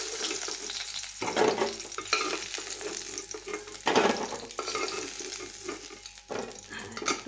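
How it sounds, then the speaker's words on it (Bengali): Eggs sizzle as they lightly fry in a pan for a green egg curry, a steady close crackle with occasional louder bursts as they are stirred, and no talking. "বেশি ভাজবো না, খুব হালকা ভেজে আমি তুলে নিচ্ছি।"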